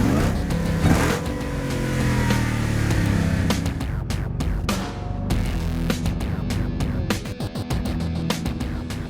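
A Jeep Trailcat's 707-horsepower 6.2-liter Hellcat Hemi engine revs loud and close, a dense throbbing roar that swells and falls, then gives way to sharp, choppy bursts toward the end, with no talking.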